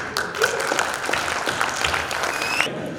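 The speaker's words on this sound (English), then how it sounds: "Let's give a big round of applause to all our panelists" Steady applause from a design debate audience in Udaipur, a dense patter of many hands clapping at an even level throughout.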